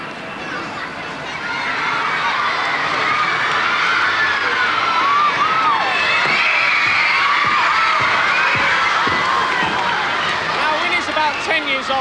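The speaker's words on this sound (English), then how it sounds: "So get ready to start applauding." Crowd at a killer whale show, with Nemo the orca performing in Windsor, building into loud, sustained cheering, shouting and whooping, children's voices rising above the roar as it swells and holds near.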